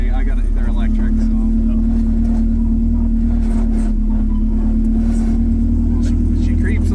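K24-swapped Toyota AE86 creeping along at low speed, a steady loud engine drone with a constant low hum throughout, while people talk inside the car.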